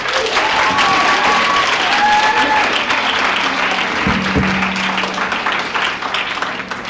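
An audience at a live panel discussion applauds loudly to vote for a mariachi, dense and sustained clapping that slowly tapers off, with some voices mixed in.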